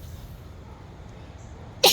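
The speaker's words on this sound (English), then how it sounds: "I done got back here and got to sneeze" A single sharp, loud sneeze bursts out at the very end, following a stretch of quiet background noise.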